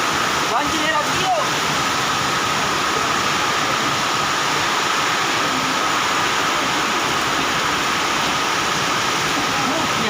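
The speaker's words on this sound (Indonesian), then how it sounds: "Banjir melanda, terminal tenggelam." Floodwater rushing through a bus terminal during heavy rain and strong wind, a loud steady broadband roar of pouring rain and torrent that never lets up.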